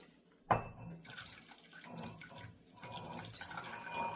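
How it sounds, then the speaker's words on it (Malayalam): Hot water is poured from a container to make jelly, a sharp start giving way to a steady splashing stream that continues for about four seconds, close by with no talk. "അതിലേക്ക് ഹോട്ട് വാട്ടർ ഒഴിക്കണം."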